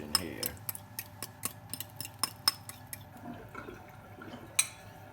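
Batter is poured into a hot pan for a quick breakfast recipe, giving a run of crackling, sizzling pops and ticks at close range, irregular and fairly loud throughout.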